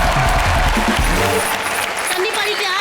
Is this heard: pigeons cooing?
no